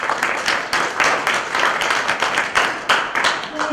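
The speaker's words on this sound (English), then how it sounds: "I just want to give a round of applause to Dr. Harlow, Dr. Jackson, and Ms." Audience applause for guest doctors at a Medtronic deep brain stimulation talk, a dense continuous wash of many hands clapping close by for several seconds, with faint voices mixed in.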